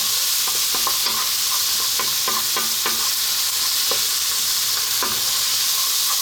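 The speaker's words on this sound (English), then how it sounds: "chili and turmeric, some salt, we're just going to throw this around in the pan for a few seconds" Chili powder, turmeric and salt tossed and stirred in a hot pan for dhal, giving a steady loud sizzle with repeated scraping and clinking strokes of a spoon against the pan throughout.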